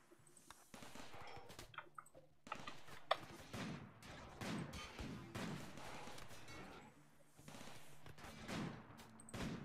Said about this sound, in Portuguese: A Ieda tá tomando uns, uns tiros na cabeça ali de graça